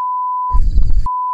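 A single steady electronic censor beep, loud and pure, runs continuously except for a short burst of muffled noise in the middle, then resumes to the end.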